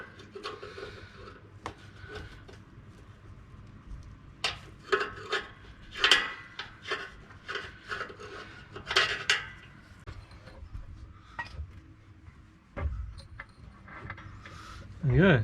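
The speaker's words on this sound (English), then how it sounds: "So we'll undo the clips and then we'll just cable tie it back up." Plastic wiring clips being undone on a vehicle while rock sliders are fitted, heard as scattered close clicks, snaps and rattles at an irregular pace, with some faint handling noise between them.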